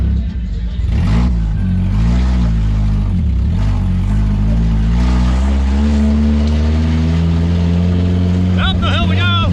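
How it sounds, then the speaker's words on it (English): A motorsport car drives up a hill after winning an event, its engine droning loud and close with rising and falling revs, while people talk and cheer excitedly over it throughout. "Driving the last car out."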